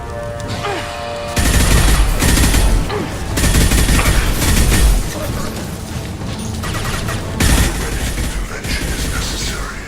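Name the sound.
heavy gunfire in video game Mass Effect 2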